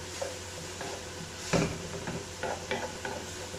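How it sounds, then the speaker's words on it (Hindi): Vegetables quick-fried in a pan over high flame for chicken tikka pasta: a quiet, steady sizzle with several brief scrapes and knocks of a utensil against the pan. "ये देखो ये आपने जल्दी जल्दी से फ्राई कर लेना, फ्लेम आपने रखना है इसका नीचे से हाई"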